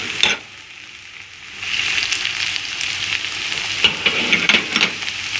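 Onions and mushrooms sizzle in a hot pan, a close steady crackling fry that swells after a brief quiet moment, with a few stirring scrapes and taps.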